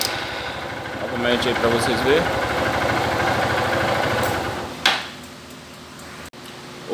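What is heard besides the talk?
motorcycle engine idling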